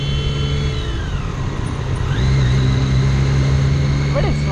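Triumph Daytona 675R superbike engine while riding through the city, a loud steady harmonic drone that dips and then rises in pitch around midway, with wind rush throughout and no talk.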